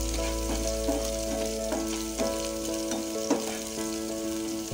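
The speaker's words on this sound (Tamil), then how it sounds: "வெங்காயம் நல்லா வதங்கட்டும்" Onions fry over full flame for a Tamil potato fry, a steady crackling sizzle under a faint tonal hum, with small stirring knocks, close and without voices.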